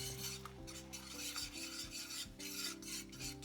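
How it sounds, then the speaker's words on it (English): Egg mixture for Japanese omurice being stirred in a heated pan, giving continuous scraping, rasping strokes close up, with steady soft tones humming underneath. "When the pan is heated, put all egg mixture and stir it."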